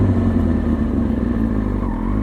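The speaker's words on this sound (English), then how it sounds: "Downshifting, put my foot on my lever, get ready to downshift, little blip" A motorcycle engine drones steadily up close, with a quick throttle blip as it drops a gear, the revs briefly rising and settling.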